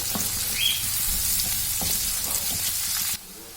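Onions fry in a pan for potato saagu with a loud, continuous close-up sizzle and soft stirring, then cut abruptly near the end.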